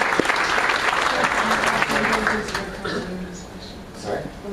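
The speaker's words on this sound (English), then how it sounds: "Give them a round of applause, please." Audience applause after a call to thank the people making an event happen, steady clapping filling the room throughout, fading slightly toward the end with voices mixed in.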